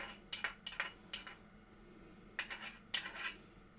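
A utensil stirs salt and chopped garlic into pizza dough ingredients in a bowl, giving quiet clusters of clinks and scrapes in short bursts with brief pauses between them.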